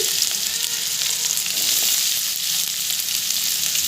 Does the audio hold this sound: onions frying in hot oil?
yes